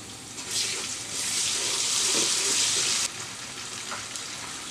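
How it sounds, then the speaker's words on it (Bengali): Green peas frying in hot oil for motor polau, a loud, close, continuous sizzle that swells as they hit the pan, then drops to a steadier, softer crackle. "এই তেলের মধ্যে কিন্তু আমি মটরটা একটু ভেজে নিব, সুন্দর একটা মটরের টেস্ট হবে।"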